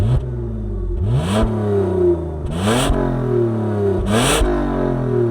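A BMW 325ti with a straight-six petrol engine revs up three times in quick succession, each rise in pitch dropping back to a steady idle between blips, heard close with no talk.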